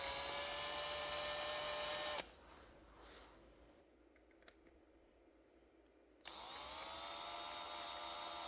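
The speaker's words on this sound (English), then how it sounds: "Here I am going in with a reamer, getting closer to the final shape." Reamer working a hole in a resin studio-scale X-Wing fuselage part, with a close, steady whining tool tone that drops away to near quiet in the middle before returning.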